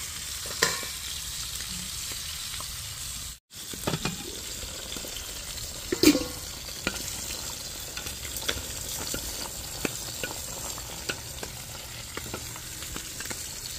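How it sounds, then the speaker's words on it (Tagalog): Galunggong fish cooking in coconut milk in a pot, a steady bubbling simmer that runs throughout with occasional small clinks and pops, close and moderately loud. "Hayaan muna natin na kumulo"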